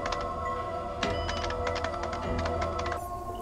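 Keyboard typing taps along in quick irregular bursts of clicks, fairly close and quiet, with a short pause midway and a soft steady background hum.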